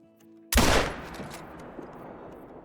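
A single loud .270 caliber rifle shot rings out in the hunting game Call of the Wild, a sharp crack followed by a long fading echo.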